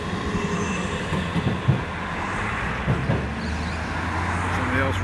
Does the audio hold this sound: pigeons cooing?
no